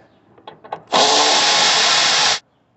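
A power tool spins out a 10 mm screw from the air filter housing of a 2009 Nissan Frontier 4.0: a few small clicks, then a loud, steady whirring burst lasting about a second and a half before stopping abruptly.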